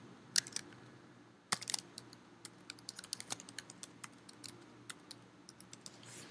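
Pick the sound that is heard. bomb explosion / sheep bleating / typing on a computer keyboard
typing on a computer keyboard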